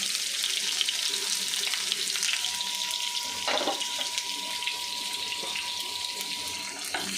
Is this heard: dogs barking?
no